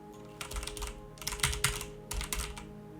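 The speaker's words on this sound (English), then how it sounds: "I tap away at the keys," Fingers tap on a computer keyboard in quick irregular bursts separated by short pauses, close and clear in a quiet room.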